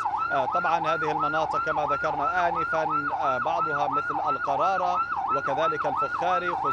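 An ambulance siren carrying injured people in Khan Younis wails loudly and continuously in a fast, repeating up-and-down warble, with a voice speaking Arabic throughout.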